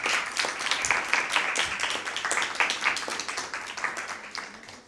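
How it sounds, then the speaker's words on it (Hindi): An audience at a Christmas Bible quiz for schools claps loudly in welcome, a dense, sustained burst of many hands that stays steady, then tapers slightly toward the end. "हम इन तमाम स्कूल्स को भरपूर तालियों में"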